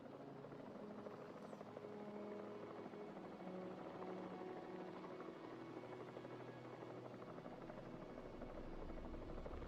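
Helicopter in Jurassic World Evolution 3, a constant faint rotor drone with a steady buzzing texture running alone throughout.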